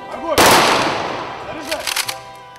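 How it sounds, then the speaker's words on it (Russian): Ceremonial rifle salute volley at a Victory Day war memorial, one sharp loud crack that rings out and echoes, followed by a few fainter scattered pops, outdoors. "объявляется минута молчания и звучит ружейный салют"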